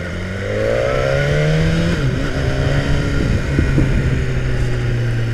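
A 2017 BMW S1000R motorcycle rides past with a loud, close engine note that climbs through revs, dips, then settles into a steady drone.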